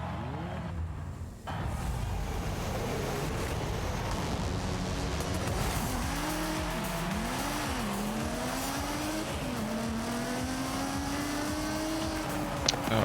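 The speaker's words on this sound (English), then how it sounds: "Oh, I forgot how good this car sounds." Mercedes-Benz A45 four-cylinder engine in Forza Horizon, revving loudly and steadily with rising and falling pitch sweeps through gear changes, a brief dip near the start, no talk over it.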